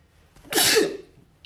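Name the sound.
sneeze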